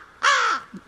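A single harsh crow caw sounds nearby, loud and brief, followed by a faint low murmur.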